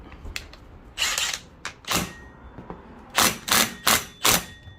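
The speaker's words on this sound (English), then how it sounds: "you just use a 14mm socket to tighten that up" Ratchet clicks from a 14mm socket tightening a bolt on a Honda CR-V 2.4L engine tensioner and mount, heard as several separate bursts of mechanical ratcheting, close and distinct, with short pauses between them.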